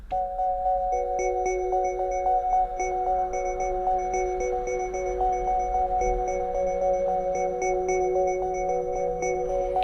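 A Korg Minilogue XD synthesizer plays a vector synthesis user oscillator patch with random grid modulation, sustained bright tones whose timbre and pitch shift subtly, steady and moderately loud throughout.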